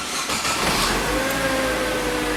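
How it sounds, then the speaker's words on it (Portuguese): A 2006 Chevrolet Celta 1.0 8-valve engine runs steadily at idle, close and loud, with a constant mid-pitched hum and a faint whine, no speech. "Motor em funcionamento."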